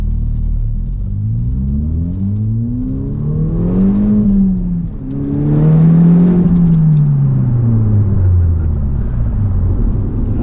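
VW GTI MK6 fitted with an aftermarket Clutch Masters FX350 clutch, engine rumbling loud and close as it accelerates through two rising and falling revs, with no speech over it.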